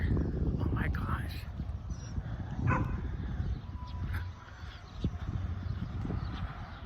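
Several dogs in a neighborhood street bark and yip in scattered bursts over rough background noise, fairly close, while a person talks over them.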